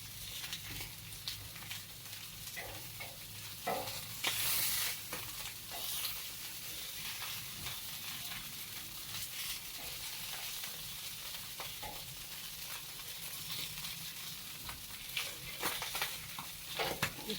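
Fish frying in a pan of hot oil, a dense continuous sizzle and crackle with occasional spatters and stirring, close and steady throughout, with no talking.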